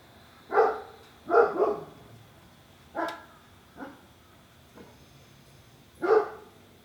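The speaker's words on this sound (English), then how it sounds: "Yes, the dogs are barking." Several dogs bark outdoors, some distance away, in irregular bursts of one or two barks with gaps between them. No one talks over them.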